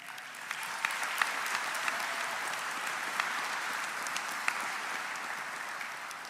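Broad, steady applause from a large crowd at the Apprentice School Class of 2021 graduation ceremony, heard at some distance as an even wash of clapping with a few louder claps standing out.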